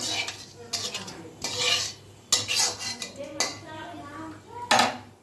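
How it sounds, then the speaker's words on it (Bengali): Metal utensil scraping and clanking around a hot wok with oil and black cumin seeds, several sharp bright strokes with pauses between them, close and fairly loud, faint sizzle underneath. "তেলটা ভালো করে কড়াই চারদিকে একটু ছড়িয়ে দিলাম"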